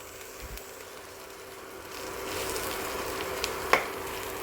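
Fish roe frying in a pan, a soft steady sizzle that swells slightly, with a few light scrapes and clicks of stirring near the end.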